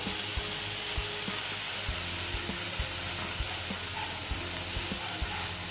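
Onion and green peas sautéing in a pan for poha patti samosa filling, a steady close sizzle with regular low scraping knocks of a spatula stirring throughout.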